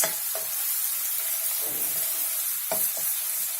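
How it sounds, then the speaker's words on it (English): Green chilies, ginger and curry leaves fry in hot oil in a pan, giving a continuous close sizzle broken by a few sharp crackling pops and light stirring scrapes, with no voices. "We want these chilies to fry a bit."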